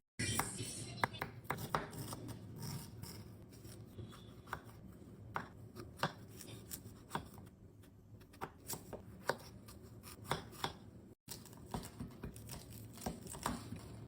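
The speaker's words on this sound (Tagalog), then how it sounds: "At dito naman magsisimula naman tayo dito maggayat ng ating mga gagamitin." A knife chops ingredients for kare-kare on a board, giving a long run of close, irregular taps and thuds with faint rustling between strokes and a quiet voice at times.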